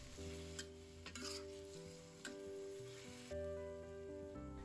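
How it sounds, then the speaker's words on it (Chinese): Chicken wings and potatoes are stir-fried in a sauce with ginger and garlic. A soft, steady sizzle carries intermittent stirring scrapes, with quiet background music running underneath. "再把料汁倒进去，土豆倒进去，翻炒均匀"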